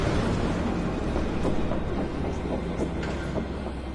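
A train rumbles along in the video game Final Fantasy 7 Remake, giving a loud, heavy low roar with scattered clanks and rattles across the whole stretch.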